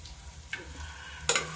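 Pumpkin pakoras frying in oil, a soft, close sizzle with a brief stirring scrape and a louder burst of crackle near the end.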